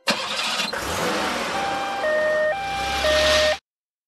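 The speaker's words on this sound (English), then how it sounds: "Ambulance." Ambulance siren from a children's vehicle learning video game, a stepped two-tone wail cycling loudly after a brief opening burst, steady and close for a few seconds before cutting off.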